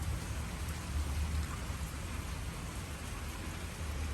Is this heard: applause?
no